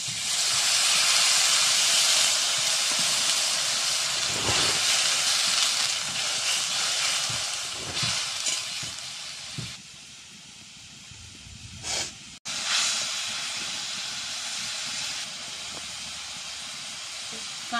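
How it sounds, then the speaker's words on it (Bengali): A little water poured into a pan of fried spice paste for stuffed pointed gourd (kakrol) curry, setting off a loud, close steam hiss that gradually eases, with a brief sharp interruption near the end. "মশলা কষানো হয়ে গেছে, এবার আমি জল দিয়ে দিচ্ছি অল্প করে।"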